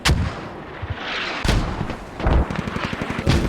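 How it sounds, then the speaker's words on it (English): Mortar fire in the tactical shooter Squad: several heavy booming blasts at irregular intervals, each a sharp loud impact followed by rumbling, over a background of distant gunfire. "The mortars getting a couple kills here."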